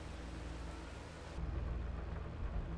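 Raindrops drumming on a tractor cab roof in a farming game, a steady dense patter with a low rumbling undertone that swells louder halfway through, no voices.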